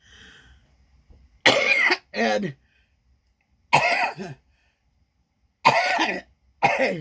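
A woman coughs in several harsh bursts, paired fits spaced a second or two apart, close to the mic, with a brief spoken word early on.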